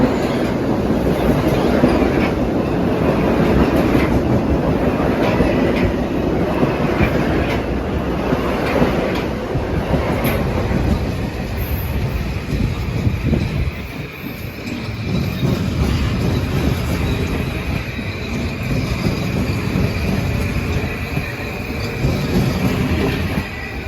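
Metro North equipment runs toward Grand Central with a steady loud rumble of wheels on rail, rhythmic clatter and occasional high squeals, close by and continuous.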